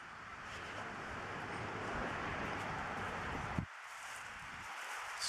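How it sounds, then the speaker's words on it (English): Strong wind blows outdoors beside a dog-training track, a faint, steady rushing gust against the microphone that cuts off abruptly partway through and then resumes more quietly. "Strong wind right then."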